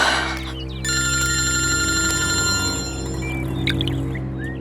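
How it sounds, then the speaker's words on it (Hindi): In a horror drama a telephone bell rings steadily and keeps going unanswered, clear and sustained over a low background hum, with no one speaking. "ये फोन क्यों नहीं उठा रही है?"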